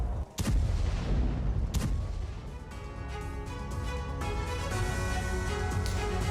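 A big blast from an air strike on Arouri's house opens with sharp heavy booms, then a long rumbling roar with layered sustained tones beneath it.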